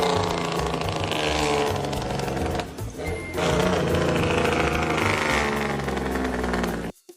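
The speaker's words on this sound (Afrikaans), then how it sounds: "Dit is 'n trok." A truck engine running at a loud, steady rumble with a mechanical rattle, briefly dipping before resuming, then cutting off abruptly at the end.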